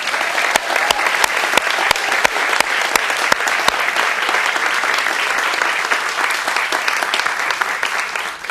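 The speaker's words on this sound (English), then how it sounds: "Can I have a round of applause for Reverend Rita?" An audience applauds Reverend Rita at a talk, steady dense clapping from a crowd with a few sharp nearby claps standing out, sustained for several seconds before tapering off.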